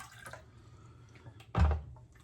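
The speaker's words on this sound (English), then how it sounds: "Let's put a little hot water in here" Hot water from a tap is poured into a shaving bowl in a quiet room: a soft trickle, then one short, louder splash near the end.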